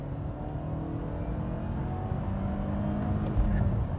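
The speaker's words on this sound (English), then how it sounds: "I'm doing 4000 RPM, full throttle" A Mercedes-Benz CLK 200 Kompressor engine at full throttle around 4000 RPM gives a steady, low, droning roar heard from inside the car, holding even with a slight swell toward the end.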